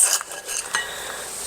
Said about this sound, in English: I'm just going to cut this one in half.